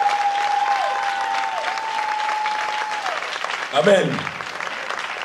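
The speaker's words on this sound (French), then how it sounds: "On va acclamer notre Dieu encore." A church congregation claps together in steady, sustained applause, with a sustained tone running beneath it and a voice briefly speaking near the end.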